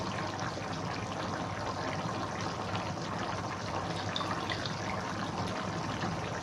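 Steady trickling and splashing of water being drained off paneer, continuous and fairly close, with no voices.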